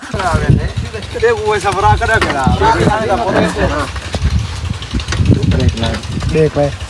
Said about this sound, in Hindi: बाइक आ चुकी है हमारे पास